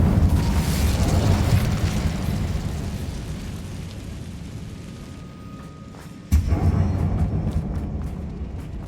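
Incendio fire spell cast in Hogwarts Legacy inside an abandoned mine: a loud, roaring burst of flame that slowly fades, then a sudden sharp blast and renewed rumbling.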